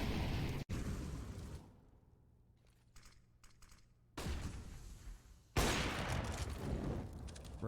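Sharp, booming AWP sniper rifle shots in Counter-Strike: Global Offensive during a live esports match, a loud crack near the start, then dense bursts of gunfire and game noise filling the rest.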